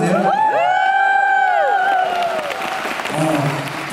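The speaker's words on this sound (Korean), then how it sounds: "박수 한번 드세요." Audience applause and light cheering at a charity concert, a brief burst of clapping from the crowd that fades out as a voice speaks over it.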